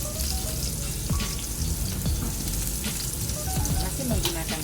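Tofu frying in a small amount of oil on a grill pan, a steady close crackling sizzle with occasional sharper pops and spatters throughout.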